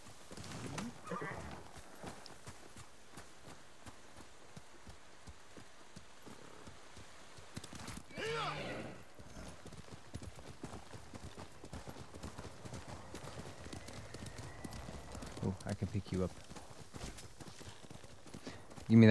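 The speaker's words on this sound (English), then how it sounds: "Horsey!" A horse gallops in Ghost of Tsushima, hooves clip-clopping in a rapid, steady rhythm under a soft wash of falling rain, with occasional snorts and a whinny.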